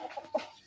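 Short, soft clucking from a chicken, a few quick notes close by, brief and fairly quiet.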